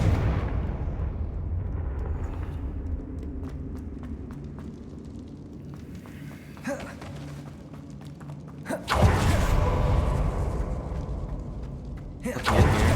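Confringo explosive spell blasts in Hogwarts Legacy, a low rumbling ambience broken by a loud, broad burst that sustains for several seconds, followed by another sharp blast at the close.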